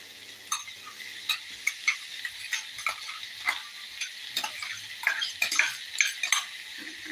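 Green gram (cherupayar) is stirred and fried in a pan, with a soft sizzle underneath repeated sharp clinks and scrapes of a spoon against the metal, coming in an irregular rhythm at close range.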